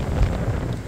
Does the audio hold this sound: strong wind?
yes